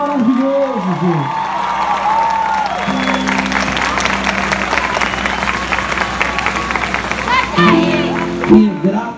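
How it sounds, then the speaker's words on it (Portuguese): A congregation applauds at a worship service, with sustained hand clapping and crowd noise filling the space. A voice and musical tones ring over the clapping at the start and again near the end. "Pode aplaudir esse Deus maravilhoso"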